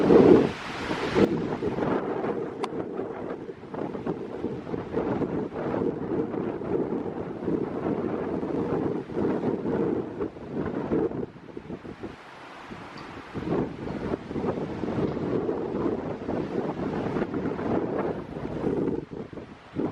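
Strong wind blasts steadily against the microphone for a long stretch, a heavy roaring rush that briefly dips before surging again.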